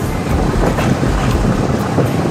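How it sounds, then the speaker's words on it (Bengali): A passenger train on the Kahaloo to Santahar line in Bangladesh runs along with a steady, loud, continuous rumble and rattle that holds evenly from start to finish. "তো আবারও রান হচ্ছে ট্রেন।"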